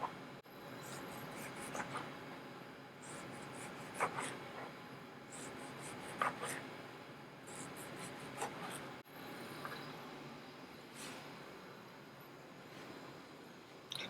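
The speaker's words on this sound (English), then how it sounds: "And cut slices of tomato." A knife cuts through a tomato on a cutting board while burger ingredients are prepared, giving soft, irregular scraping and slicing strokes, quiet and close, repeating every second or two.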